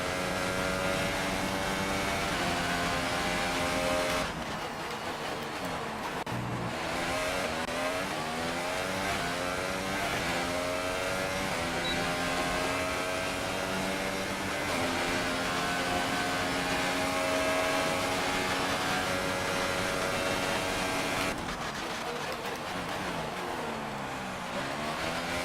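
Formula 1 car engine in F1 2018 on a qualifying flying lap at Bahrain, a loud continuous high-revving whine rising and falling through gear changes, with brief downshift dips along the lap.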